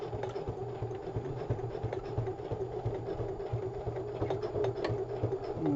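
A sewing machine runs with a steady mechanical hum and fine rapid ticking from the feed dogs, continuous and close throughout.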